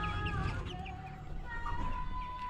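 Chickens cluck and murmur close by, several birds overlapping in a steady, busy chorus.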